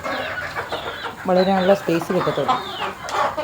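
Native country chickens on a poultry farm cluck in a burst of calls through the middle, close by, while a person talks over them.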